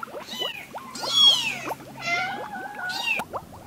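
A white cat meows repeatedly in a series of rising, wavering calls, close and fairly loud, with no talking over it.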